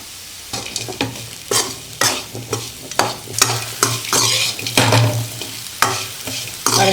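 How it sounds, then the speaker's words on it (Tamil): Potatoes fry with chili powder and spices in a pan, with loud rhythmic scraping and stirring strokes over a constant sizzle, close and fairly forceful. "மிளகாத்தூள்லாம் பச்சை வாசனை போகிற அளவுக்கு 1 நிமிஷம் நல்லா வதக்கிக்கலாம்"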